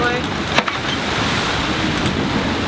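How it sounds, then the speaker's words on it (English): Stormy Atlantic swell and gusty rain-laden wind batter a sailboat, giving a steady broad rush of surf and wind noise with a couple of brief thumps of waves smacking the hull. "It's raining, really gusty, smacking into waves."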